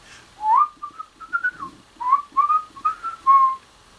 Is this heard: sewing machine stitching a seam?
no